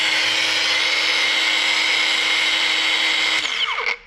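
A Bosch Profactor Spitfire brushless 18-volt cordless angle grinder runs at a loud, steady high whine, then its pitch drops as it spins down near the end.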